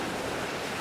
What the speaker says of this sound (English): This is the wind we should have had all along.